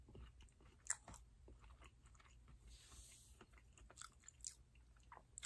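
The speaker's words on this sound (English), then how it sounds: "sorry, I hate chewing in my videos." Close, quiet chewing and biting of peanuts, with a few sharper crunches standing out over a low background hum, no talking.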